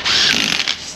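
A ratchet wrench clicks briefly and loudly up close while bolts are tightened on a 2006 Silverado with 400,000 miles, a short burst of rapid pawl clicks with no talking.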